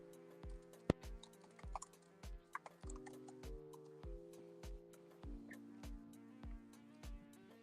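Keys clatter on a computer keyboard in quick, uneven bursts of close clicks. A steady tonal hum runs beneath, and no one speaks.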